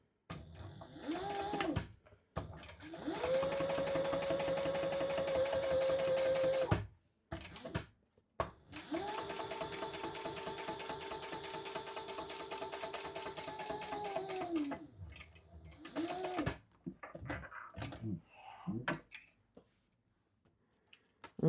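A freshly oiled home sewing machine top stitches the folded liner of a zip-around travel wallet in two long steady whirring runs, separated by short pauses, fabric handling and a few brief start-stop bursts of stitching.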